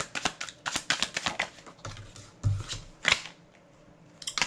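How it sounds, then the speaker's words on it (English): Tarot cards are shuffled close by, giving quick irregular riffling flicks and soft slaps with a few short pauses between bursts. "Let me shuffle these because I didn't shuffle these."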